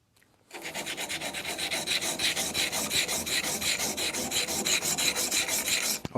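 Rhythmic back-and-forth rasping of a newly forged knife's bevel worked by hand on a coarse King 120 grit whetstone, steady strokes close up and continuous for about six seconds with no talking.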